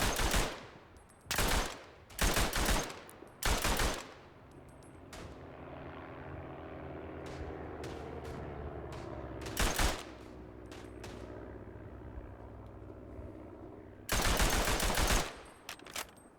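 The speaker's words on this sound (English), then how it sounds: "Right, set up the bloody machine gun." Machine gun fire in the WWI shooter Verdun comes in loud, dense bursts: three quick volleys early on, a short burst mid-way, then a longer sustained burst near the end, with a low rumbling battlefield drone between them.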